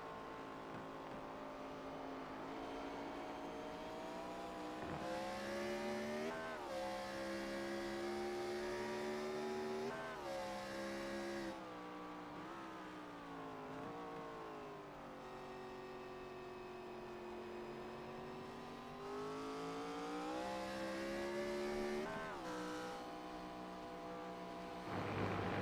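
Race car engines in the iRacing video game at Watkins Glen scream continuously, rising and falling in pitch through repeated shifts and corners, loud and alone.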